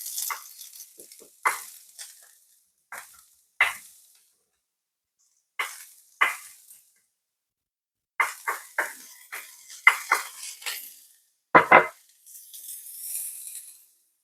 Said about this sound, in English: Now we can put those diced onions in. In go the diced onions.